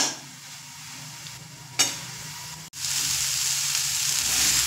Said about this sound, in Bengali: এবার আর 1 থেকে 2 মিনিট মতো একটু হাই ফ্লেমে ভাজা ভাজা করে নেব